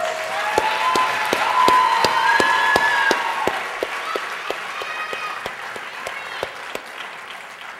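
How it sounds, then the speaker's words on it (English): A crowd at the Miss North Dakota pageant applauds steadily with some cheering and whoops, while a few sharp, evenly spaced claps ring out above the clapping. "let's give them all a round of applause."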